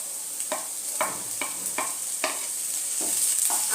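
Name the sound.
ginger garlic paste frying with onions in a pan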